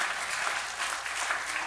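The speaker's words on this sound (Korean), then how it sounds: "박수 한번 치겠습니다" A church congregation claps together at a revival evangelism service, steady dense applause filling the room for a moment with no speech over it.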